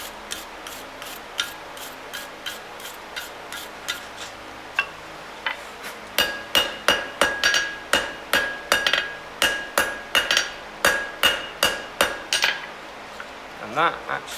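A hammer strikes hot metal on an anvil to set a forge weld, ringing out in a long run of metallic blows that start light and spaced, then grow louder and quicker and land close and clear.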